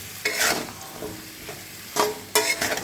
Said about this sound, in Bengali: এবার সম্পূর্ণ তরকারিটা মিশিয়ে দেবো